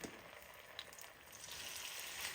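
Spoonfuls of grated potato pancake batter frying in hot vegetable oil in a pan, a soft, faint steady sizzle and crackle with no talking.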